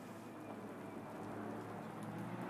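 Moderate rain falls in the Assetto Corsa Competizione racing game during a GT3 race, a steady faint hiss with a low background drone and no voices.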